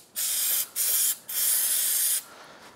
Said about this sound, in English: a little bit of parts cleaner,